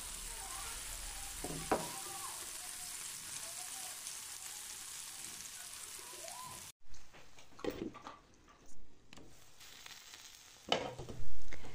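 Batter mixture cooking in a frying pan gives a steady soft sizzle, then briefer bursts of frying and stirring noise after a short break, close by and moderate in level.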